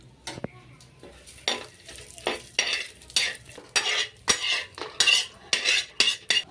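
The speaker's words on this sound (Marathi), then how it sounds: "खोबऱ्याला पण मी तेलामध्येच भाजून घेणार आहे" Grated coconut roasts in oil in a pan for a stuffed brinjal masala, a spatula scraping and clattering against the metal in rhythmic bursts over a soft sizzle, close up with no talking.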